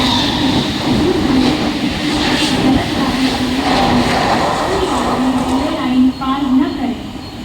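A fast suburban local train rumbles and rattles steadily through a station platform, wheels clacking and squealing, while a platform announcement voice speaks over the noise.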